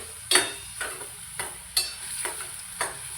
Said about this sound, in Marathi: चवीपुरती हे मीठ टाकलेलं आहे हे मी परतून घेते